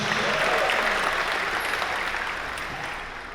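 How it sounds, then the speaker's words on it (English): An audience at a city State of the City event gives a round of applause, steady mid-distance clapping that gradually fades toward the end, with no talk over it. "another round of applause for Melina, Jalen, and Jayla"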